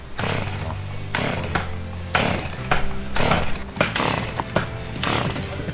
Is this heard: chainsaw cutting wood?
yes